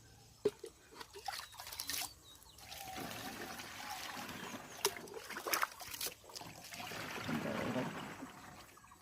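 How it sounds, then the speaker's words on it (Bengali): Water poured from a mug into a plastic drum to mix a pesticide spray for an eggplant field, heard as a trickling, splashing pour with brief drips that rises and falls across the clip, close by with no speech. "পানি ড্রামে দুই মগ দিয়ে নেবো আগে।"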